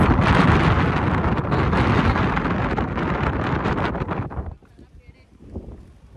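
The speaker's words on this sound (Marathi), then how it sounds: "हवा बेकार आहे वरती." Strong wind on the Kalsubai summit, the highest peak in Maharashtra, roars loudly against the microphone for several seconds, then suddenly drops to a much quieter gusting.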